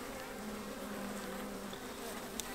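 A steady, continuous buzz of many honey bees droning close by, with no voices.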